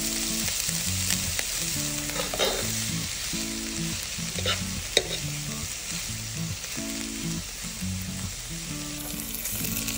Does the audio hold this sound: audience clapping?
no